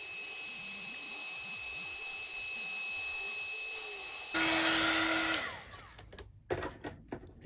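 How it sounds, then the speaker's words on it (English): A heat gun blasts hot air over a damp, inked craft board, a loud steady roar that holds for several seconds, then cuts out into sputters and short bursts as the air is redirected. "I'm going to give it a blast with the heat gun because I don't want it to seep in"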